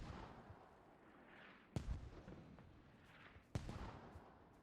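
Mortar or grenade-launcher rounds land in an online competitive shooter match, two sharp distant thumps a couple of seconds apart over a steady low rumble of game ambience.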